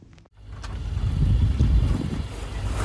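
A solo sailboat sails at sea from the Marquesas, with steady wind rush and water wash building after a brief quiet start, broad and continuous.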